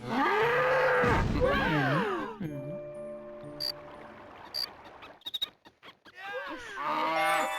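Cartoonish cows in the video game Little King's Story moo loudly and repeatedly, with stretched, wavering calls at the start and again at the end, separated by jingly game effects and brief clicks.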